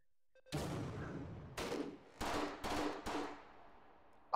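Loud gunfire from a VR shooter, Hot Dogs, Horseshoes & Hand Grenades: one sustained burst of shots, then several more bursts in quick succession, each cutting off abruptly, with a sharp report at the very end.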